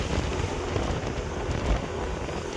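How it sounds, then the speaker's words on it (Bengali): Steady wind rushing against the microphone during a drive along a tree-lined road, a constant broadband roar with small gusts and no talking. "ঠান্ডা ঠান্ডা হাওয়া চলছে।"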